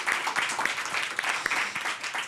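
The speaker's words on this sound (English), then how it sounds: "I think we can give the panel a big round of applause to close this." A conference audience applauds a panel on ocean governance, a dense wash of steady clapping heard from within the room, moderately loud and continuous.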